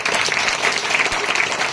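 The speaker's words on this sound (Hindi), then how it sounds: "जो लोग सो रहे हैं उन्हें एक बार ताली बजा दे सोने वालों के लिए।" A congregation claps together at a Christian church service, a brisk, dense burst of many hands sustained close and loud throughout.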